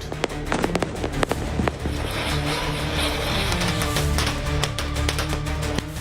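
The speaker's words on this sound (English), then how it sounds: "Fireworks bursting late into the night" Fireworks bursting late at night during Diwali festivities in Delhi, a dense, continuous barrage of sharp cracks and pops, some near and loud, layered over a steady rumbling wash of distant explosions.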